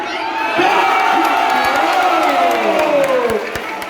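A crowd cheers and shouts at a kids' division basketball league game, a dense, loud, continuous roar with whoops and hollers layered through it.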